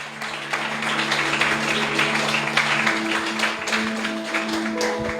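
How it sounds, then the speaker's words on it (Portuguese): Congregation clapping during a missions church service, continuous applause throughout with sustained organ or keyboard tones beneath and some voices mixed in. "Você pode aplaudir Jesus bem forte aí"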